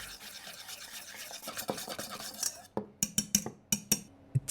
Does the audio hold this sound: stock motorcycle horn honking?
no